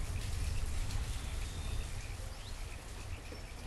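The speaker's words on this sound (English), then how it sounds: "It's always pissing down with rain" Steady rain in the village-building game Banished, a dense even hiss of drops with faint chirps of birds or insects woven through the patter.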